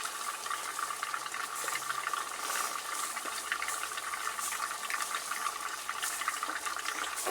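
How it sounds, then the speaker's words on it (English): Liquid nitrogen poured onto water-cooled RAM boils off as a steady, dense hiss and fizzing crackle, continuous and fairly even throughout with no talking. "I'll just keep pouring until this little bit of Ln2 when my flask is done."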